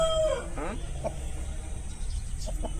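A young gamecock at a farm crows briefly near the start, followed by scattered clucks and faint fowl noises over a low background.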